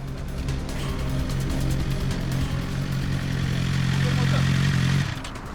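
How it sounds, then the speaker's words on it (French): A motorcycle engine drones steadily on a French motorway after the bike was clocked speeding, a loud sustained hum that holds for about five seconds and then cuts off abruptly. "sur l'autoroute, une moto vient d'être flashée à une vitesse folle"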